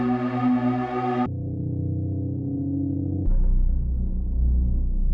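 A synthesized portal hum built from three Synth Master patches shifts through three sustained tonal layers, moving from a bright buzzy drone to a lower hum and then a deeper, louder droning pad, steady and without talk.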